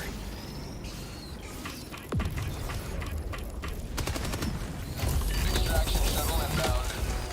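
A sudden explosion in a first-person shooter video game, a sharp burst among clattering mechanical clicks and rapid gunfire-like cracks, followed by a louder rumbling stretch of game noise.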